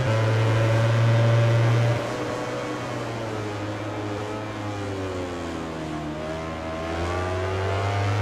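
An Aprilia motorcycle races in MotoGP 20 at Brno, its engine screaming at high revs with shifting pitch through gear changes, loud and continuous with no voices.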